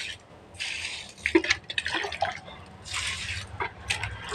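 Cement slurry water poured over mortar, splashing and trickling in uneven bursts with drips and gurgles, fairly close and alone, easing off and surging again.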